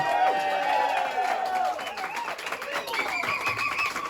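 An audience at a spoken word show in Brixton cheers, whoops and applauds loudly and continuously, a dense crowd roar with bright shouts rising above it.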